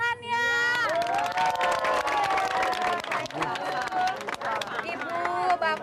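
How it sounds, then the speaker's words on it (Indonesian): A studio audience on a television game show cheers and applauds, with shouts and whoops over the clapping and music-like tones running underneath. "Mana dong tepuk tangannya?"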